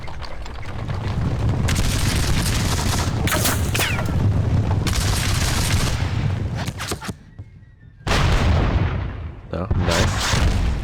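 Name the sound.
cannon fire in War of the Austrian Succession video game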